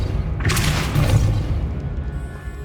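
A Depulso force spell blasts in the Hogwarts Legacy video game, a booming whoosh that swells near half a second in and rolls on over low rumbling game ambience.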